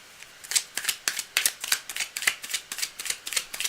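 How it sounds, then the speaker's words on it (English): A deck of reading cards being shuffled in quick rhythmic riffles, about a dozen crisp bursts in a row, close and alone with no talking. "I need to shuffle a tiny bit more."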